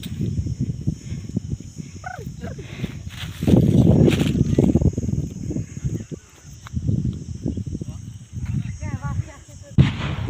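Firecrackers bursting inside a well at an outdoor gathering, heard as loud, muffled booming thuds with a reverberant rumble and a final sharp bang, while people talk and shout throughout.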